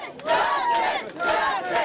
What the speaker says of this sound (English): The overflow in the hundreds chanting and not able to get into the auditorium